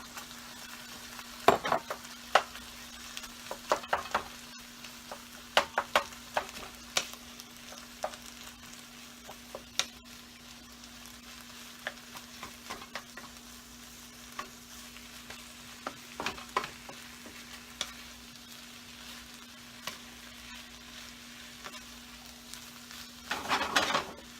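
Pork fried rice stir-frying in a pan, with a steady low sizzle and frequent sharp scraping and tapping of a spatula against the metal, close and alone over a faint constant hum.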